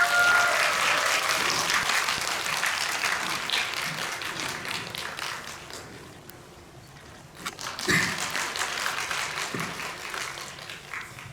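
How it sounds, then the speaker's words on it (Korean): Audience applause at a film talk event in a theater, steady dense clapping from a crowd that dips briefly midway and then swells again, filling the whole stretch. "큰 박수 부탁드리겠습니다"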